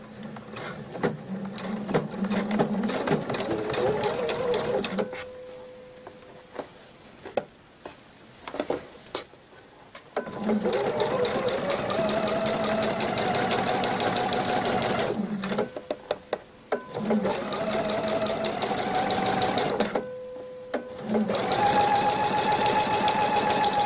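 A domestic sewing machine runs a narrow edge topstitch along a tunic shirt placket at 2.5 mm stitch length, sewn from the right side, humming steadily in several long bursts with brief pauses between runs.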